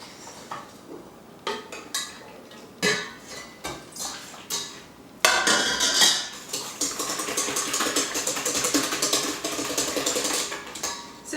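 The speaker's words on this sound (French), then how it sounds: "Donc mélangez bien pour éviter simplement que les jaunes ne cuisent." Whisking egg yolks in a bowl for floating islands produces a steady run of quick clinks and scrapes from utensil on bowl. Scattered taps come first, then continuous, fairly close mixing with no talk.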